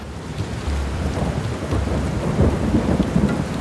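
Cartoon-style rain and thunder effect: steady loud rainfall with low rumbling thunder rolling through, continuous and close, with no voices.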